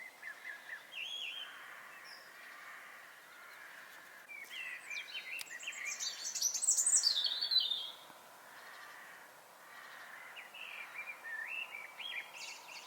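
Garden birds sing at sunrise, a faint, distant mix of chirps and whistled phrases that swells briefly to a louder burst in the middle, then settles back.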